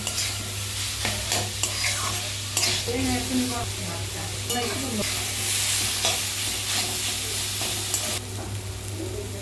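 Steady sizzling of jackfruit frying in a pan with intermittent stirring scrapes and a constant low hum underneath, no talking.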